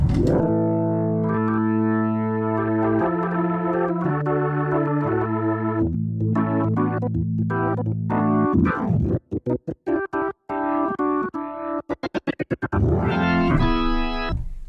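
Electric guitar plays sustained chords and single notes through a rotary speaker pedal's swirling, rotating modulation, then breaks into choppy, stuttering strums near the end.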